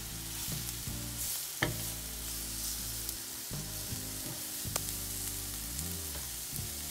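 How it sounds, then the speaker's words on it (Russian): Onion and flour sauce for chicken liver sizzles steadily in a frying pan as it is stirred quickly, with occasional scraping clinks of the utensil against the pan. "и быстро-быстро перемешаем."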